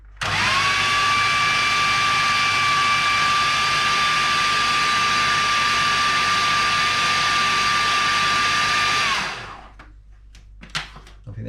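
A food processor whirling a homemade bean burger mixture, a loud steady motor whine holding for about nine seconds before spinning down to quiet clatter.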